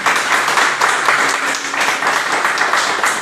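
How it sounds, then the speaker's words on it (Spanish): Congregation in a church applauding together during a Spanish-language service, a dense steady wash of many hands clapping at close range for about three seconds. "Vamos a darle un fuerte aplauso al Señor."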